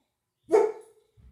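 One sharp single bark from a dog, close and fairly loud, followed by a brief faint rustle; no one speaks over it.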